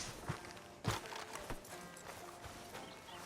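Horse hooves clop in Red Dead Redemption 2, a slow, uneven walking rhythm of soft thuds over a low ambient bed, fairly faint with no talk.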